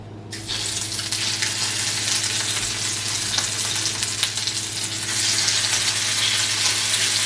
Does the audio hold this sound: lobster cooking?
yes